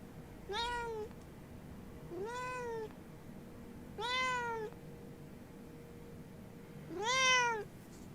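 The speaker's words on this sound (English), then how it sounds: "Got the cat back." A house cat meows four times, each call a drawn-out rising-and-falling cry spaced about two seconds apart, close and fairly clear over a quiet room background, with no talk.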